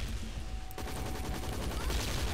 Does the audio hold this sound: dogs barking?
no